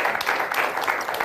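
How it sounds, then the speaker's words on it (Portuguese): Studio audience on a Portuguese television talk show claps in a short, busy burst of applause, evenly sustained across the moment. "Um aplauso!"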